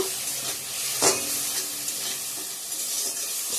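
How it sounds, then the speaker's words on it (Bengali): Potatoes and cauliflower frying in hot oil give a steady, close sizzle with stirring scrapes and a brief louder spatter about a second in, no voices. "আর এদিকে আলু ফুলকপিগুলো ভেজে নামিয়ে রাখছি"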